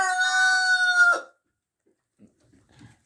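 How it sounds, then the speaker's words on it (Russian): A hen, one that has been sneezing, lets out a single loud, drawn-out call lasting about a second, then falls quiet apart from a few faint soft sounds. "Вот она, вот эта курочка."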